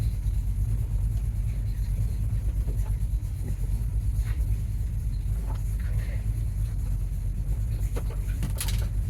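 A carbureted Ford Mustang engine idling as it warms up, with a steady, close, low rumble holding evenly throughout and a few faint higher ticks above it.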